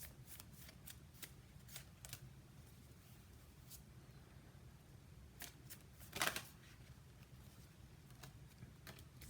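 Soft, quick riffles and snaps of tarot cards being shuffled close by in a quiet room, a series of short bursts with one louder flurry partway through.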